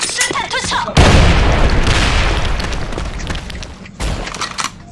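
A video game gun fires a loud, booming shot that slowly decays into rumble, with people talking briefly before and after the blast.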